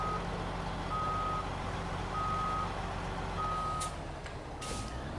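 A truck in the video game SnowRunner backs up, its reversing alarm chirping in a steady repeating pattern over a low engine rumble, with a few sharp clicks near the end.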